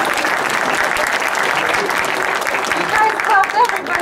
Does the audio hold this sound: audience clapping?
yes